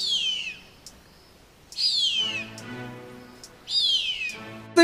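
A harpy eagle of the tropical forests of South and Central America gives three long, high, descending whistled calls, spaced apart and moderately clear, with quiet forest background between them.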